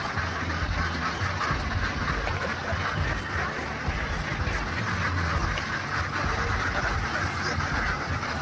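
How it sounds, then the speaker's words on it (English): Ducks quacking in a dense crowd, a continuous loud chorus of overlapping quacks and honks with no pauses. "The duck army is rising."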